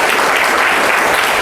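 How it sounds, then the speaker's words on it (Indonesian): Classroom applause for two student debate teams at an Indonesian high school lesson, a dense, steady wash of many hands clapping throughout, loud and close with no talk over it. "Coba berikan dulu tepuk tangan untuk kedua."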